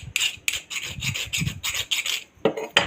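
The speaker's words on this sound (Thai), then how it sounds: "ลื่นนะครับ ไม่มีรอยบุ๋ม หรือตะไบไม่เข้านะครับ" A metal file scraped across a hardened, heat-treated knife blade in a hardness test, giving a series of short, sharp rasping strokes in an even rhythm, close and loud with no talk.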